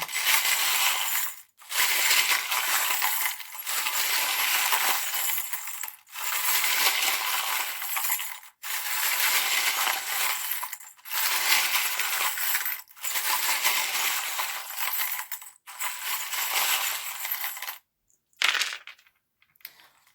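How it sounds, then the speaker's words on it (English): Tiny metal tarot charms pour and rattle repeatedly, a dense continuous clinking and jingling in long bursts separated by short pauses, close and fairly loud with no talk. "tiny little charms have come out"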